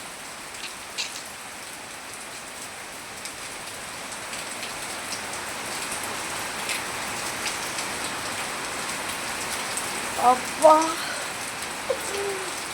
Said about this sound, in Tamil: இந்த குளிர் காலங்களில் பெய்யும் பாருங்க, அந்த மாதிரி மழை பெய்யுது.